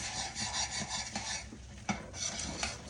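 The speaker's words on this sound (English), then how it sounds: "And stir it real fast in there." Peanut brittle mixture being stirred fast in a pot, a quiet, close, rhythmic scraping and rasping with a faint sizzle underneath and no voices.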